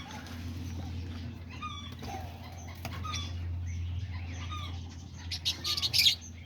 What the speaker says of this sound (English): There's all the diamond doves right here.